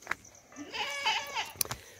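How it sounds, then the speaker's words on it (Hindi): A goat bleats repeatedly on a farm, its wavering calls close and fairly loud, rising and falling over a couple of seconds with faint background noise between cries. "बकरी देखो बुला रही कैसे आवाज़ कर रही"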